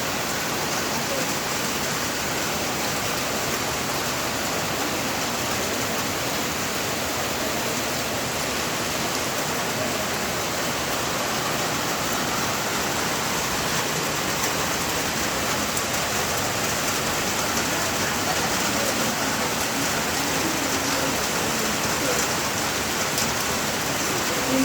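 Heavy rain falls steadily in Kerala, a dense, unbroken hiss of downpour that stays loud and even throughout with no pauses.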